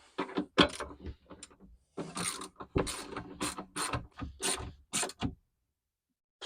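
Ratchet snugging the mounting bolts on a Ford Bronco rear cargo side shelf, heard as bursts of quick mechanical clicking close up, separated by short pauses, then silence at the end.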